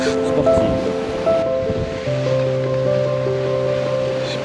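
Sea swell and waves wash around a sailboat under delivery off the coast of Portugal, a continuous rushing of water and wind close to the mic, with an engine hum underneath.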